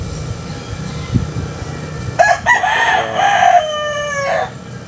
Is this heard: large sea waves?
no